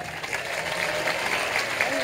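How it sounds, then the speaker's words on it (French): Steady outdoor applause from spectators at a youth pétanque final in Marseille, a dense even patter of clapping that holds at a constant level throughout with no pauses. "on les applaudit"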